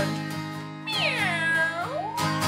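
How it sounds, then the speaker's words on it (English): A cat meows loudly and up close, one long drawn-out meow that bends downward and then a shorter rising one, set over a steady musical background. "Let me hear those kitty cat meows nice and loud."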